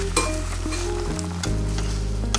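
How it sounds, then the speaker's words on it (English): Pork belly and soy sauce bubble and sizzle in a pan over high heat, a loud continuous frying crackle with a steady hum underneath. "Turn the fire back to high heat. We let it boil for roughly 20 seconds."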